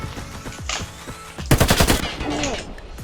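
Rapid automatic gunfire erupts in a video game as a player shoots at an enemy, a loud burst of roughly half a second of overlapping shots that stands out after quieter game sounds.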